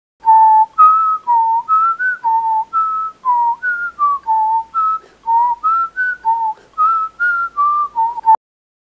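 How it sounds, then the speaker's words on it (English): A person whistles a wandering, improvised melody in short clear notes into a MacBook's built-in microphone, rising and falling in a steady rhythm, close and alone. "we whistle in an improvised tune via our MacBook's built-in microphone"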